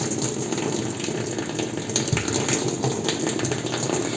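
Water gushes steadily from a connected hose into a 9 kg Mika twin tub semi-automatic washing machine, a continuous close splashing rush with no break throughout.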